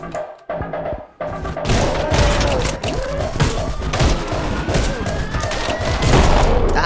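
Loud bursts of gunfire and booming blasts in the video game Anger Foot pile up in rapid, chaotic succession, dense and close, with no clear speech.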